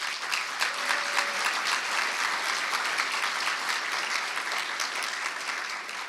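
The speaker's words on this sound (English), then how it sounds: "Can we give him a round of applause?" Steady applause from an audience at a professor's inaugural address, a broad even wash of many clapping hands holding at moderate volume throughout.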